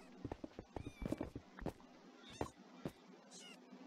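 A cat in the Minecraft video game gives a faint, brief meow amid clattering game sound effects, footsteps and thuds, all at low volume.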